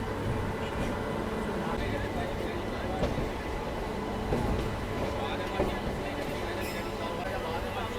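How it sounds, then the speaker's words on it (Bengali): Jaleswar MEMU passenger train pulling out of Howrah Junction station, a steady low rumble and rolling rail noise running continuously at moderate loudness, with a few faint clanks and talk in the background. "এই মুহূর্তে আমাদের জলেশ্বর মেমু প্যাসেঞ্জার ছেড়ে বেরিয়ে যাচ্ছে হাওড়া জংশন রেলওয়ে স্টেশন থেকে"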